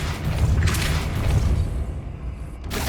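A Depulso force spell cast in the Hogwarts Legacy video game, a low booming rumble with a soft whoosh that swells and fades over a few seconds, with no talking.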